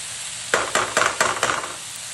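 Pork frying flat in a pan crackles with a steady sizzle, broken by five sharp bursts of louder spitting and scraping at an even pace, close up, with no talk.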